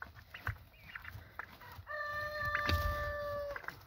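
Peacocks call outdoors in a loud, drawn-out, nasal cry that rises over a background of clucking fowl and scattered bird chatter, with no voices.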